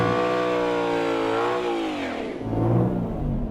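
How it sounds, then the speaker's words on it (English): A Ford Mustang GT500 holds a line-lock burnout, its V8 revving high and loud before the pitch swoops down into a rougher, lower rumble as the tires spin. "Then a little bit of a burnout."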